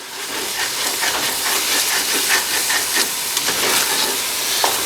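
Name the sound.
broth added to hot pan, deglazing French onion soup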